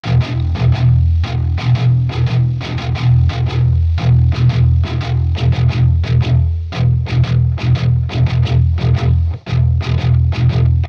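Heavily distorted 9-string virtual electric guitar (Shreddage 3 Argent) riff with note ends fully extended, sustained notes ringing into one another, loud and continuous with only brief accented changes.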